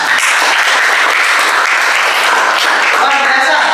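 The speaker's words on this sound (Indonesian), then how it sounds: "Kita beri tepuk tangan untuk kita semua." Steady, dense applause from a classroom of students during an Islamic religious education lesson on inheritance law, continuous and fairly loud throughout.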